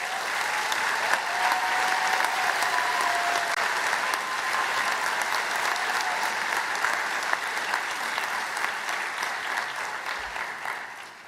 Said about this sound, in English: Graduates, can we please give a round of applause to all of the people that helped make today happen?